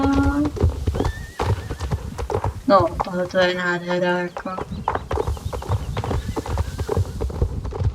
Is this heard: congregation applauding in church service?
no